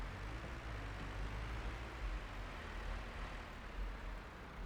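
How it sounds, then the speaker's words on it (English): Tractor engine idling steadily in Farming Simulator 25, a continuous low rumbling drone at even volume with no talking. "However, the tractor is ready to be driven."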